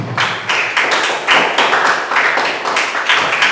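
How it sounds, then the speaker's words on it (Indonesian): A school class claps for everyone after student performances, loud, close, bursty rounds of clapping and tapping that rise and fall in short waves within a classroom. "Oke, tepuk tangan untuk semua."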